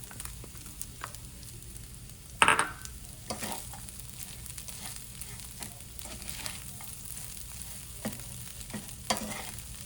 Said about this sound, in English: I'm just mixing it in the kadai